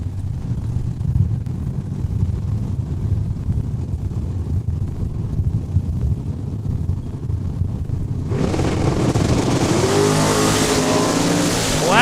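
A Dart and a Camaro launch in a drag race at Saskatchewan International Raceway, with low rumbling idle giving way to a sudden loud, broadband engine roar late on, close and continuing to the end.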